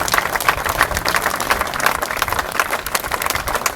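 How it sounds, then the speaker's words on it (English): An audience at a British wrestlers' reunion claps steadily for a veteran wrestler, a dense and even round of applause from a room full of people. "let's give him a round of applause for even being here"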